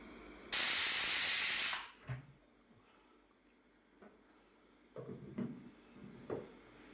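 A pressure cooker cooking khichdi on a gas stove lets out a loud steady steam whistle for over a second, then falls quiet apart from a few faint kitchen clinks and knocks.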